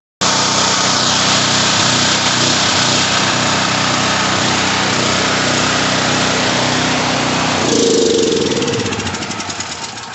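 Smarter Tools STGP-9500EB 9500-watt gasoline generator, running without its air filter after carburetor repair, roars loudly and steadily up close with a slight surge, then the engine note shifts and begins to die down near the end.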